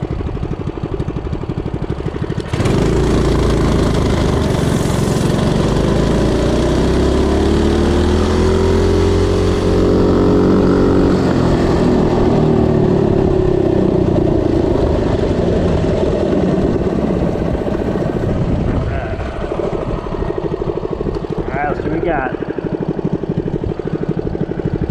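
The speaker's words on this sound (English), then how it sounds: "0 to 30 stock Predator Hemi, Mikuni carb and header pipe." A Coleman CT200U-EX minibike with a stock Predator Hemi 212 engine, Mikuni carb, header pipe and 40-tooth rear gear accelerates from a stop: a loud, buzzing single-cylinder roar that climbs in pitch through the run, then drops off as it eases.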